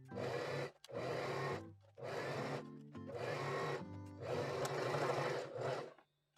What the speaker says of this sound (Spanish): Y le pasaremos una costura recta a 1 centímetro del orillo.